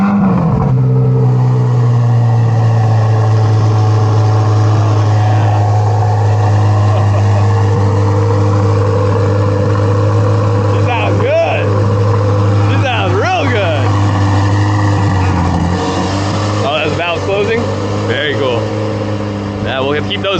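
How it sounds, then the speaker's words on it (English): A 2023 Chevrolet Corvette C8 Z06 starts and settles into a loud, steady idle with a deep constant rumble, while people talk and cheer over it. "First start as the owner of the Z06."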